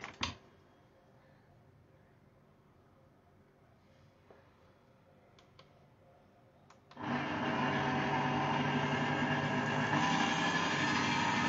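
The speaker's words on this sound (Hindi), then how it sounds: "तो मैं इसको ये इसमें हैंड मिक्सर में लगा देती हूँ" An electric hand mixer whisks a mixture in a home kitchen, starting suddenly after a quiet stretch with a few faint clicks, then holding a steady, loud whirring hum to the end.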